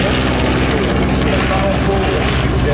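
A propeller aircraft flies low and loud overhead at the La Ferté-Alais airshow, its engine drone filling the air continuously.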